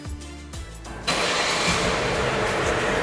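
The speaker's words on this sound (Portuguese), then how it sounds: "Alexa, peça para a Fiat ligar o motor do meu carro" A Fiat Toro's engine is started remotely. After a second of near quiet it cranks and catches with a sudden loud roar, then settles into a steady, close idle.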